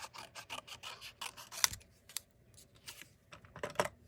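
Scissors cut apart card stock for a handmade card in a quick run of crisp, close snips and clicks, with a few sharper cuts standing out over a quiet room.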